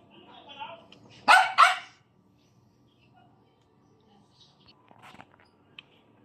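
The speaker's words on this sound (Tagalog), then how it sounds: "Ingay ng aso natin." A dog barks twice in quick succession, loud and close, followed by quiet room sounds and faint shuffling.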